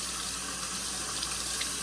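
Tap water runs steadily over morel mushrooms being rinsed at a sink, a continuous close splashing hiss with slight fluctuations and no voices.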